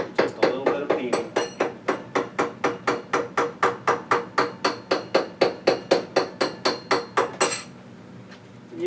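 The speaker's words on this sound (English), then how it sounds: "Just a little bit of peening." Hammer peening a metal rod over on a DIY wooden pepper mill: a rapid, even series of about thirty sharp metallic taps, close and loud, stopping near the end.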